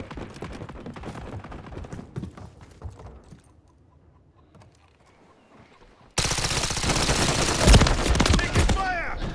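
Video game gunfire from Call of Duty Modern Warfare 3: scattered shots and clatter, a quieter stretch, then a sudden loud sustained burst of rapid automatic fire.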